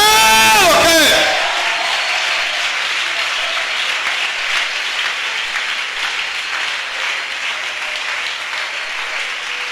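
A church congregation breaks into loud applause and cheering in praise of Jesus, rising out of a shouted voice and continuing as steady, dense clapping with scattered whoops.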